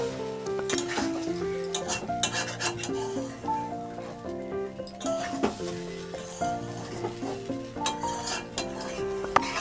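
Semolina fries in a covered pan over medium heat while a spoon stirs and scrapes steadily, a soft sizzle beneath repeated rubbing strokes, with a faint steady tonal hum behind.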